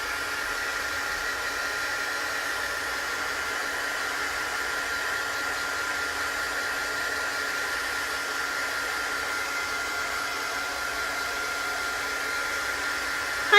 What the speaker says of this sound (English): So I'm going to dry this just a little bit too